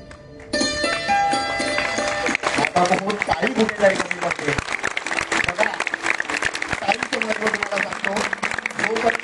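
Audience applause fills a lecture hall during a Marathi talk by a history scholar and motivational speaker, a dense, steady clatter of clapping that starts abruptly and holds loud throughout, mixed with some tonal sound early on.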